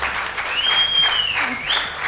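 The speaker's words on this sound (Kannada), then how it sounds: "ಜೋರಾಗಿ ಚಪ್ಪಾಳೆ ತಟ್ಟಿ." An audience claps together at a Kannada reality show dance round on television, a short burst of applause heard up close, with a thin whistle-like tone over it.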